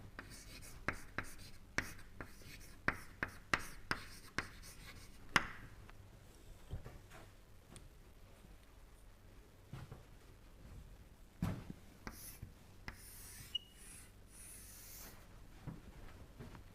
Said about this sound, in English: So, we will write it here.